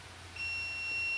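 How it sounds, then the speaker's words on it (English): A 3D printer gives a steady high electronic beep as its print starts, faint over a low background hum. "You can hear it beep in the background there"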